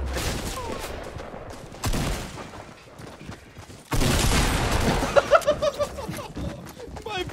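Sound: gunfire in the video game Fortnite

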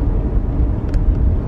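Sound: passing road traffic

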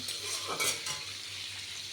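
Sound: potatoes frying, stirred with a spatula

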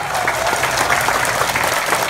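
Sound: audience applause for Diana Armenta

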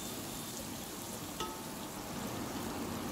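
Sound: onions sautéing in hot oil

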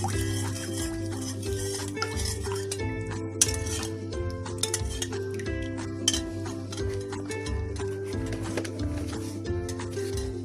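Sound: stirring ingredients into dough mixture

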